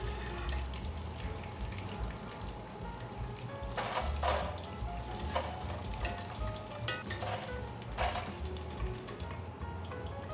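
Fish fries in a pan for sweet and sour fish, giving a steady close sizzle with crackling pops and occasional scraping stirs, and no talking.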